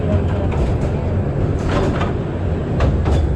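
Amusement park train ride rumbling steadily along its track, a continuous low mechanical roar with faint rattling clicks throughout, close and fairly loud with no talk.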